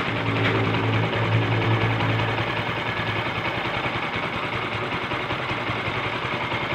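A Kawasaki Rouser 135 LS motorcycle engine idles after a tensioner repair, a steady close mechanical hum with fine ticking and no talk, holding an even level for the whole stretch.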